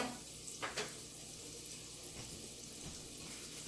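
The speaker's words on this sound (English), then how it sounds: "I'm just browning the sausage" Sausage browning in a pan makes a steady, fairly quiet sizzle and hiss, with a couple of brief louder spits near the beginning.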